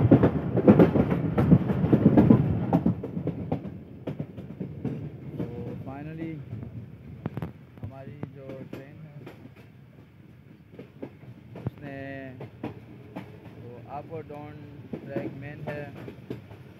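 A train runs along a railway track in Pakistan near the Multan lines, its loud rumble strongest at first, then settling into a steady roll while someone talks over it.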